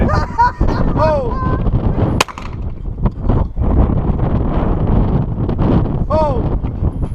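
Strong gusting wind buffeting the microphone on a windy day, a loud continuous rumbling roar throughout, with people shouting excitedly over it.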